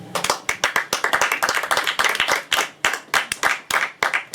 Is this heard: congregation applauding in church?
yes